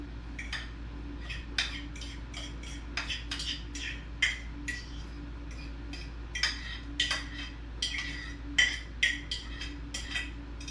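Mashed bananas, three average-size ones, scraped out with a utensil into a bowl while making banana bars. Light clinks and scrapes of metal on dish come in short, irregular bursts over a quiet kitchen hum, with no talking.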